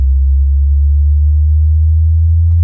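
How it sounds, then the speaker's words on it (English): Steady, loud pure sine tone from an Ableton Live synth, holding one low pitch with a slight upward bend, alone and unbroken. "It's going to play a sine wave for now."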